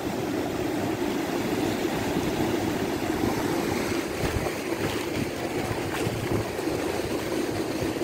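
Ocean surf at Praia do Pontal beach in Recreio, Rio de Janeiro, a steady low roar of breaking waves heard from the shore, continuous and moderately loud with wind, no talk.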